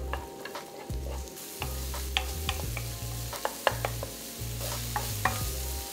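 Shallots and garlic sizzle in oil in a wok for a vegan tomato-sauce baked rice, with a steady fry hiss punctuated by repeated scraping stirs and clinks of the spatula.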